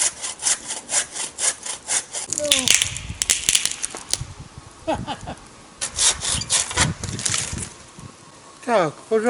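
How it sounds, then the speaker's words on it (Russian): A hand saw cuts through wood outdoors on a snowy winter trail, with a steady rhythmic rasp of back-and-forth strokes, loud and close, and someone speaking briefly between strokes. "пилу возьмем"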